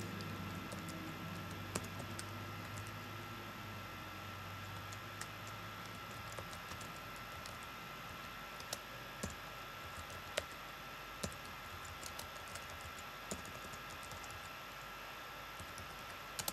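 A Terminal command is typed on a Mac computer keyboard as sparse, quiet key clicks, irregularly spaced and fairly close, over a low steady hum in an otherwise quiet room.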